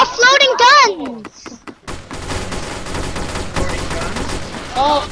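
Rapid gunfire in the Roblox shooter game Compound, with quick bursts of shots under excited voices and game sounds, loud and close, with people talking over it.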